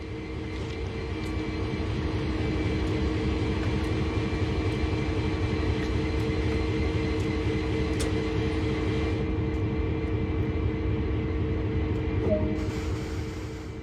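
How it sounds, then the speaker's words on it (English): A CSX diesel locomotive in the Train Sim World video game rumbles with a steady low engine drone and a constant hum, loud and unchanging throughout, with a brief higher whine near the end. "Set the locomotive up and pull towards the cars ahead"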